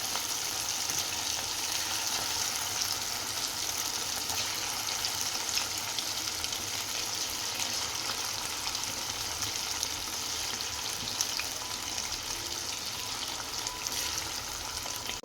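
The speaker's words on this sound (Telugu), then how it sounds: "మంచిగా ఫ్రై అవ్వాలి, మంచి బ్రౌన్ కలర్లోకి రావాలి" Chicken pakodi pieces deep-frying in hot oil, a steady close sizzle and bubbling that holds evenly throughout with no voices.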